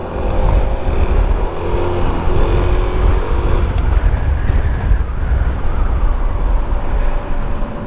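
A big German truck rolls past on an open city street, a loud, steady engine rumble close by that holds through the whole stretch, mixed with general road noise.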